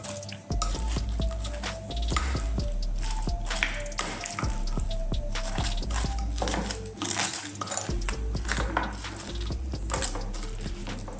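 Torn rustic bread pieces being mixed in a bowl for a bread salad, continuous close wet squishing and light clinks of utensil against the bowl, steady throughout.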